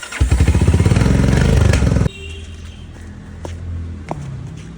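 A motorcycle engine runs close and loud with a rapid, pulsing idle for about two seconds, then cuts out, leaving faint clatter and ambient noise.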